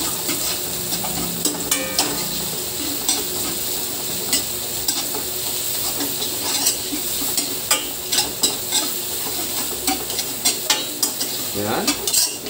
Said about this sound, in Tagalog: So, hintayin natin mag-golden brown ang yung bawang.